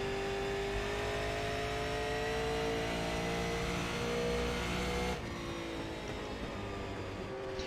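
A steady, loud race car engine drones at high revs in the NASCAR Daytona arcade racing game. The pitch holds nearly level, then the sound drops a little in level toward the end.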